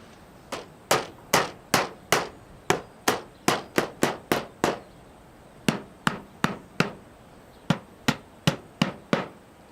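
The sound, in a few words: hammering galvanised clouts to fix apron flashing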